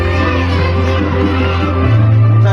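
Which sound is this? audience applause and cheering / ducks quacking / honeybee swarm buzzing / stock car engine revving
audience applause and cheering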